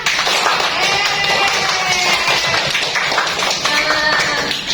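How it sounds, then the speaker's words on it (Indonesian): Loud, sustained clapping from a group of children, a dense burst of rapid hand claps continuing throughout. "Coba sekali lagi tepuk tangan yang gemuruh atau meriah"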